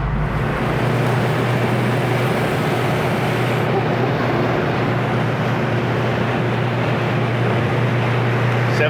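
A 1978 Datsun 620 pickup with a custom setup cruising at 70 mph around 3,500 RPM, giving a steady, loud engine drone mixed with road and wind noise throughout, with no talk.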